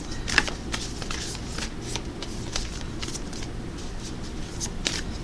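Crystal spirit oracle cards are shuffled by hand, a quick series of soft riffling flicks and slides, close and fairly quiet against a faint room hum.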